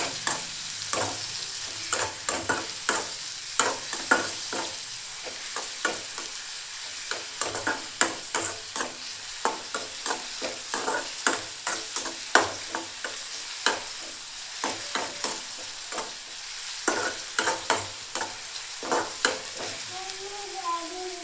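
Curry leaves fry and sizzle in oil in a pan while a spoon stirs them, giving a steady crackle broken by frequent scraping strokes close by, with no talk.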